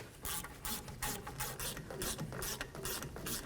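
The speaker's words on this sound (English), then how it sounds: "Let's torque these caliper slider bolts to 22 foot-pounds." Rapid clicking ratchet of a torque wrench tightening rear brake caliper slider bolts on a 2004-08 Ford F-150, a steady run of close, crisp mechanical clicks with no speech.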